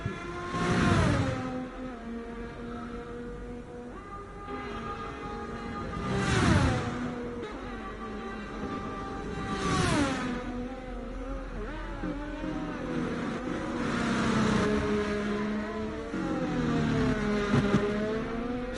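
A race car engine in a sim racing game at a virtual Silverstone circuit, rising and falling in pitch through repeated whooshing passes and shifts, with a commentator talking faintly underneath.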